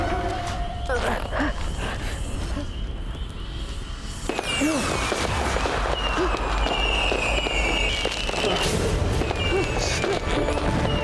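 Black gunpowder firecrackers going off in a dense, continuous barrage, loud sharp bangs with whistling streaks rising through smoky festival noise, a voice briefly audible under the din.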